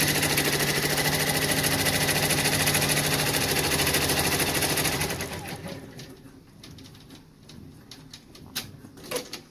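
Embroidery machine stitching an Easter design, a loud steady rapid mechanical hum for about five seconds that then stops, followed by soft handling noises and faint clicks.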